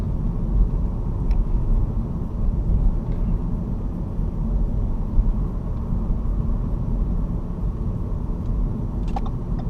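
A car rolls along onto a freeway, heard from inside as a steady, dense road and engine rumble with a few faint clicks, no speech.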